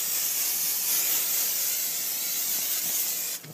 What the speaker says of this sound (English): Spray it down,